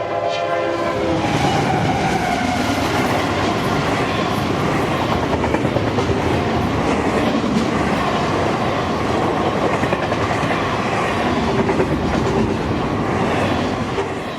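A loud CSX freight train on double track rumbles past close by, a continuous roar with rhythmic clacking of wheels over rail joints and a brief horn at the start.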